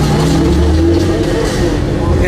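Fenyr SuperSport supercar engine breathing through a Kline Innovation Valvetronic exhaust, a loud, steady low rumble and drone heard from inside the cabin at a race circuit, with speech partly over it.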